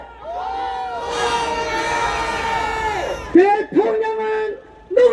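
A large crowd of marchers at a street rally protesting a presidential impeachment in Seoul chants and shouts in unison. The sustained, loud roar of many voices breaks off and then surges again in bursts.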